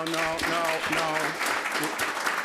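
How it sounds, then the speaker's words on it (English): Applause at a town board meeting, a brief spatter of clapping from the audience mixed with several voices talking over it throughout. "We're not going to have applause."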